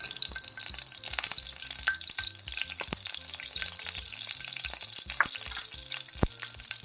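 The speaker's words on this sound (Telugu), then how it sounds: "చేపల పులుసులో మెంతులు వేసుకోవాలి. ఇలా దోరగా వేయించుకోవాలి" Fenugreek seeds fry in hot oil in a pan for a small-fish curry, giving a steady close sizzle with a few sharp pops and clicks from the utensil, and no talking.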